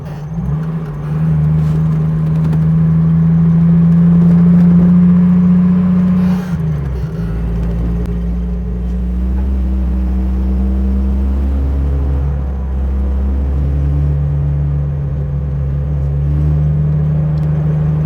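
Jeep YJ with an 8.8 rear and Dana 30 front, driving on icy snowy back roads in two-wheel drive, a steady low engine rumble and drivetrain drone from inside the cab with a brief shift in pitch midway.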